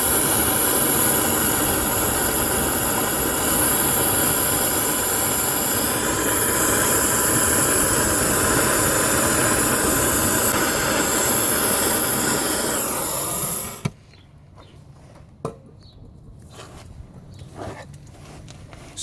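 A torch heats rusted nuts on the rear leaf springs of a 1970-1981 Camaro or Firebird, giving a loud, steady, close roaring hiss for about fourteen seconds. It then cuts off abruptly, leaving a quiet background with a few faint clicks.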